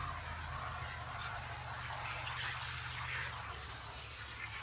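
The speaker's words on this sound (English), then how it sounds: "I'm spraying the entire paper towel" Steady, close hiss of fine water spray from a spray bottle onto a paper towel, running continuously for several seconds, a soft airy rush with a low hum underneath.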